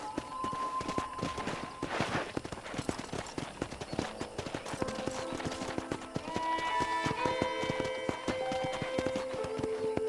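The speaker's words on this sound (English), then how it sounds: "Okay, let's see if you can still ride a horse." Hooves clip-clop in a steady rhythm as a horse is ridden in Red Dead Redemption, joined by soft ambient game tones and faint musical notes.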